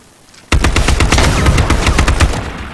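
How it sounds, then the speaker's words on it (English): Rapid automatic gunfire in the battle royale video game H1Z1, a loud close burst of repeated shots firing in quick succession for about two seconds after a quiet start, with no talking. "I heard you start shooting"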